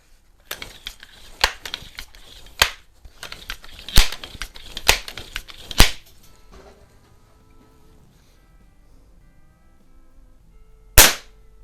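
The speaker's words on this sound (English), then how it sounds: "It's actually shooting with some pretty good power." A first-edition Crosman model 102 air rifle fires: a quick series of sharp, close cracks and clicks spaced about a second apart, then a pause and one more loud snap, with no talking.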